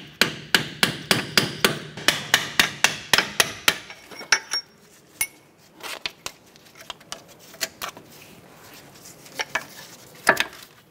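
A hammer taps a corroded wheel bearing out of the aluminum steering knuckle of a 2006-2013 Chevrolet Impala. A quick, even series of sharp metallic taps runs for several seconds, then scattered single strikes follow.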